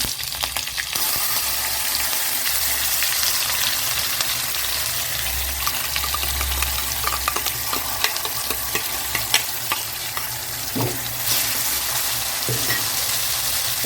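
Curry leaves temper in hot oil for a spicy kara chutney, with a steady close sizzle and crackle alongside light stirring and scattered pops.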